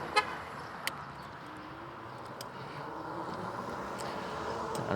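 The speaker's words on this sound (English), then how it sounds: "as he honked towards me" A car horn gives two short toots at an e-bike rider on the road, faint against steady road and wind noise.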